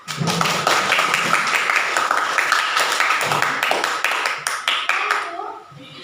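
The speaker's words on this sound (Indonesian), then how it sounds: "Tepuk tangan dong untuk kita" Students clapping together in a classroom, a burst of close, brisk applause with a few voices mixed in, fading out near the end.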